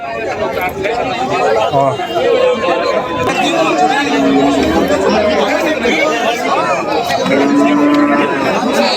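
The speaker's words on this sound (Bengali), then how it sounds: "যে দেখতে পাচ্ছেন এই গরুটা বকনা" A heifer at a busy cattle market lows amid crowd chatter. Moos blend with constant talk from nearby people and other livestock, loud and dense throughout.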